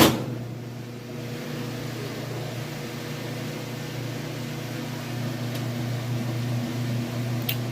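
A Crosley dryer drum spins with a steady, even mechanical hum and whir, constant and moderately loud, with a faint click or two along the way.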